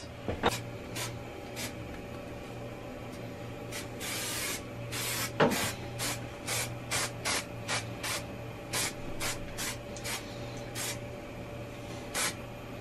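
Short hissing bursts from a spray can dusting a light coat, over a dozen quick puffs in an uneven rhythm, close by over a steady low hum.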